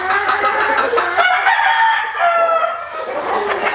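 Kelso Shelton roundhead gamefowl rooster crowing up close, a long loud cock-a-doodle-doo that rises and trails off, followed by a second crow and clucking, with no talk.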